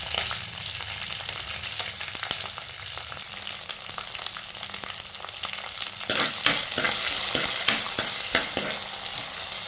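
Onion, mustard seeds, curry leaves, fenugreek, green chili, ginger and garlic frying in a pan, a steady bright sizzle with stirring scrapes that grows louder and crackles more about two-thirds through.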